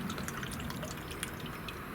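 Hydrogen peroxide poured by the cup into a container of distilled water for a homemade spray, a steady liquid splash and trickle with faint drips, close and continuous throughout.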